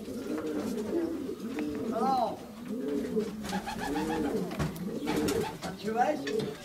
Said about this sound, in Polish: tutaj też jest fajny gołąbek, też czeka na samicę